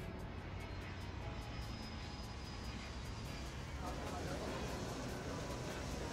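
Airplanes at an airport in the simulation game Airport CEO give off a steady, even engine hum that thickens slightly near the end, with no talk over it.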